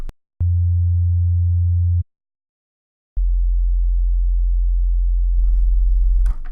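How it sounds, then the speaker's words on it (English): Pure sine-wave sub bass with no harmonics, played as two long low sustained notes separated by a short gap, loud and isolated, with a faint higher-frequency texture creeping in near the end. "It's going to be a clean sound wave"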